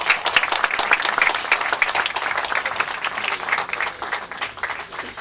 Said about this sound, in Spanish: ¡Aplausos, hermanos!